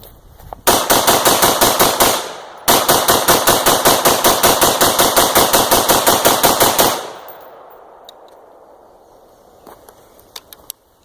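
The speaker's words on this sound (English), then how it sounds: "let's go another 30 non-stop, see what happens" An AR-15 fitted with an SD3G trigger fires fast, loud close-range shots: a short burst, a brief pause, then a long unbroken string of evenly spaced rounds, followed by quiet with faint clicks.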